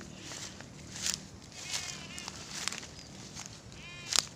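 Goats bleating intermittently nearby amid rustling and shuffling movement outdoors, with a couple of sharper clicks.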